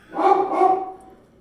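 A dog barks twice in quick succession, loud and close, in a home kitchen during live cooking, with no other sound around it.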